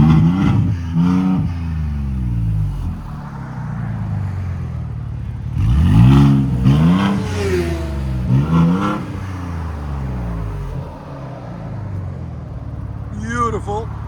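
A Ford Raptor with a new exhaust revs in several swelling bursts, deep and loud up close, with people talking between and over the revs.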